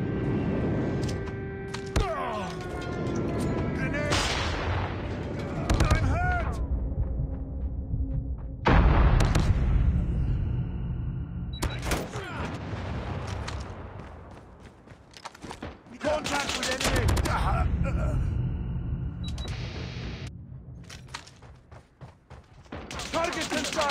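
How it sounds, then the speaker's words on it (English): Enemy airstrike explosions in the Call of Duty Mobile video game, several loud booming blasts arriving in bursts with gunfire and rumbling in between, with in-game voice callouts heard in places. "Enemy airstrike incoming."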